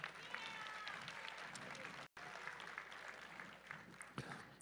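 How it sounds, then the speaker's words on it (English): Audience at a USA Powerlifting meet applauds and cheers: a sustained wash of clapping from a crowd in an indoor hall, fairly faint, with a brief cut partway through. "Give them another round of applause."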